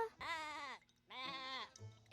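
A goat in Anna's Quest gives two long, wavering bleats separated by a short pause, close and clear, followed by a brief low sound.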